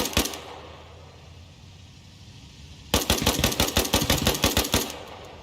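Arma Reforger gunfire aimed at enemy vehicles on a bridge: a sharp shot and a short burst, a quiet pause, then a loud rapid string of automatic rounds firing in a steady rhythm.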